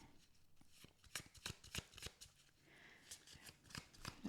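Oracle cards shuffled by hand at close range, a quiet run of crisp riffling snaps and soft sliding card noise in irregular bursts.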